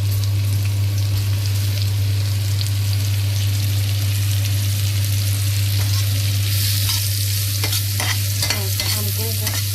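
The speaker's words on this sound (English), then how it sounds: "I'm going to make the mushrooms, which I already cut them into small pieces, in the pan" Chopped mushrooms frying in a pan, a dense continuous sizzle like light rain over a steady low electrical hum, with a few scraping stirs near the end.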